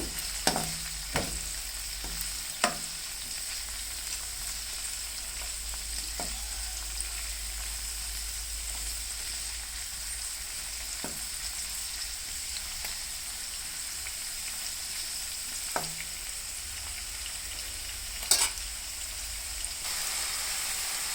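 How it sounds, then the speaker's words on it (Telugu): Brinjal and bean pieces fry in hot oil with a soft, steady hiss, broken by a few sharp ladle scrapes and clinks near the start and again later; quiet and fairly distant, no voices. "ఆయిల్ కాగింది, ముక్కలు వేసేసేయటమే. వేసినాక గరిటతో అటు కదిలించాలి."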